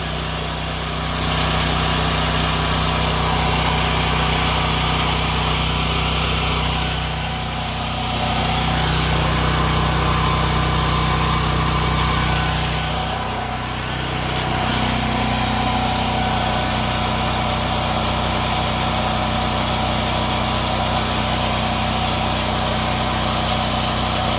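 A Ridgid 6800W generator engine hums steadily at close range, its drone dipping briefly twice as it settles toward a lower idle, no voices.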